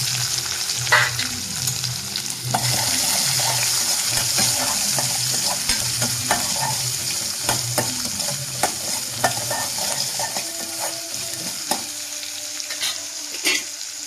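Small onions sizzling and frying in a pan while a spoon scrapes and stirs them in repeated strokes, steady crackle with clinking, close by and without talk.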